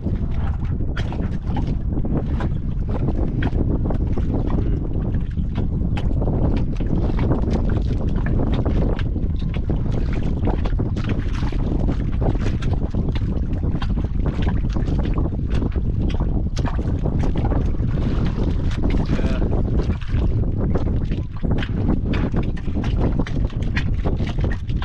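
Small fishing boats out at sea, with steady broadband engine and water rumble mixed with wind buffeting the microphone, continuous and fairly loud throughout.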